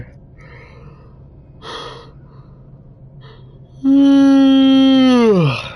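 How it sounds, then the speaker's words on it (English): A person yawns: soft breaths first, then a long loud, falling voiced yawn of nearly two seconds, heard alone and close. "why am I yawning so much?"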